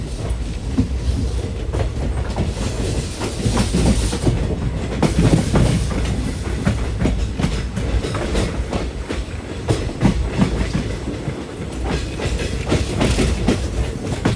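A sleeper express train from Sengottai to Tiruchchirappalli rumbles steadily along the rails with continuous clickety-clack, heard from on board, loud and unbroken throughout.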